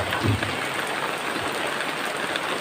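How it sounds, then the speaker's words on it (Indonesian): Rain falls steadily during a thanksgiving gathering, a dense, continuous hiss of drops on surfaces at even loudness, with a faint low rumble beneath and no voices. "Apalagi ini adalah turun hujan"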